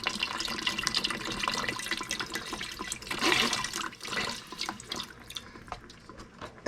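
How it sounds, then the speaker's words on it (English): Broth poured into a dark roux in a pot for seafood gumbo with a red bean base, a steady close liquid pour and splash with a brief louder surge midway, no talk. "Adding in my broth."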